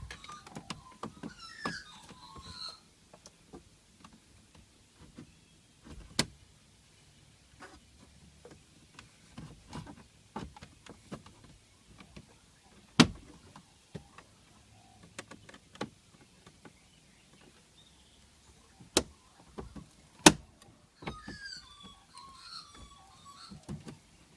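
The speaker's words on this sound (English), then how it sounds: "we're just going to use them to gently pry off the trim" Interior trim on a 1999 Subaru Impreza is pried off with plastic trim removal tools, producing scattered sharp snaps and clicks with soft rustling and fiddling between them in an otherwise quiet cabin.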